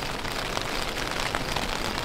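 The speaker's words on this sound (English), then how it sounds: "That's rain." Steady rain pattering on a surface at a campsite on a New Zealand trail, a dense, continuous hiss with scattered drops, fairly close and with no talking.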